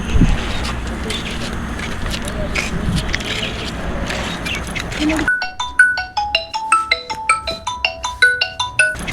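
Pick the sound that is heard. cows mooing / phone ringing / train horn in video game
phone ringing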